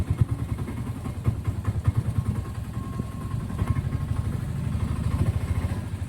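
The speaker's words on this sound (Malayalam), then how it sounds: "10 സെക്കൻഡ് വണ്ടി ഒന്ന് നന്നായിട്ട് റണ്ണിങ് ആയിക്കോട്ടെ" An auto rickshaw engine idling and running steadily in first gear, its close, loud rhythmic putter pulsing evenly throughout with a light mechanical clatter.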